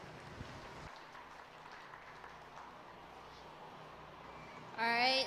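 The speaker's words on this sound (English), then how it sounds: "Please give a round of applause to all 6 exhibitors as they exit the ring." A crowd at the Alachua County Youth Fair & Livestock Show applauds as six exhibitors leave the show ring, a steady wash of clapping from a large room that carries on before a brief, louder tonal burst at the end.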